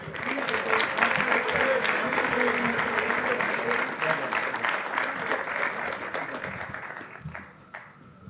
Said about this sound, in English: Let's have another round of applause for Ms. Young's advisory.